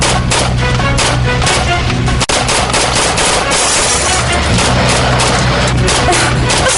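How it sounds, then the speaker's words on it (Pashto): Gunfire from weapons shooting at someone during a chase in a drama, heard as dense, continuous loud rapid bursts that fill the whole stretch with crackling, close and overwhelming. "راپسې دي، ما ډزې کوي."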